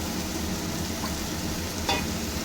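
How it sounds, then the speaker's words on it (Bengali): Spices for a shingi fish curry sizzle steadily in a pan while being stirred, with a soft hiss throughout and a brief scrape of the spoon near the end. "এবার একটু ভালো করে মশলাটার সঙ্গে আমি কষিয়ে নেব।"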